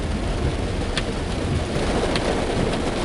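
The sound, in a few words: heavy rain pouring in Cuba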